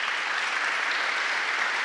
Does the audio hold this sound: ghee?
no